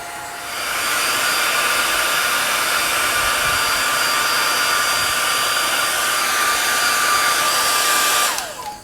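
A hair dryer blowing steadily to dry handmade fabric paper, a loud, even whooshing roar held for several seconds before it cuts off near the end.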